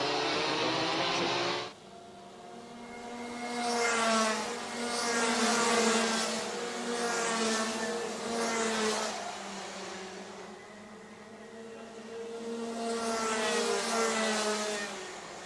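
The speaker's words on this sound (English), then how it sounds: "Of course, these Senior Max 177 karts." Rotax Senior Max 177 race karts racing at Watergrasshill, engines droning and rising and falling in pitch as several karts pass one after another, with a sharp cut-off near the start.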